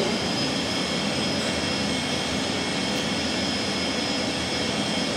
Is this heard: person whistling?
no